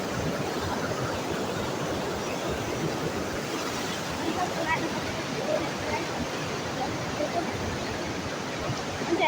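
Steady broadband rush of a river cascading over rocks at Ratmate, continuous and fairly loud throughout with no break, like rushing water close by.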